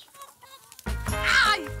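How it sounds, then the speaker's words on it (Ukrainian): A hen gives a short burst of clucking and squawking at a restaurant in Croatia, close and fairly loud, after a brief quiet moment. "Кури, може, і сумні, але їдять вони із неабияким апетитом."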